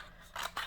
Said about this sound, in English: I'm trying to cut it fairly square.